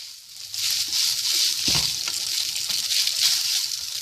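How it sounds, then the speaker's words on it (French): Leftover spaghetti reheats in hot oil in a frying pan, giving a steady, fairly quiet hiss and sizzle with a brief low thump partway through. "on réchauffe nos spaghettis dans l'huile"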